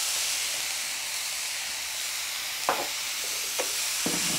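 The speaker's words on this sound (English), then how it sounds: "cook everything until it's golden brown" Finely chopped broccoli and other vegetables fry in hot oil with a steady, broad sizzle, broken by a few soft stirring scrapes near the end.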